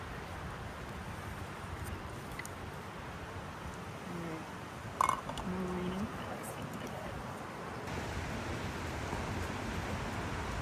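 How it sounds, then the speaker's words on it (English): Steady rain falling outdoors on a plein air painting site, a broad continuous hiss at even loudness throughout, with a brief louder knock near the middle. "Yeah, it's raining."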